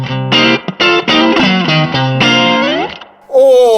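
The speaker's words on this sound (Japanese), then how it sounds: "今ここでリバーブがあっさりかかってる" An electric guitar played through a pedalboard of effects with a light reverb. A few sustained, ringing notes and chords are picked in short phrases with brief gaps, and a voice cuts in at the very end.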